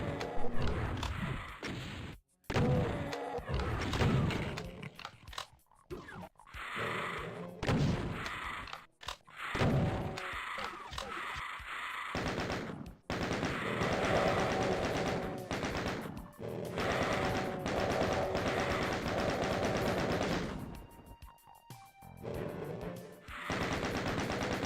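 Chaingunner enemies in classic Doom, on the Kex Engine, fire repeated rapid bursts of loud, close chaingun fire, broken by brief gaps between volleys.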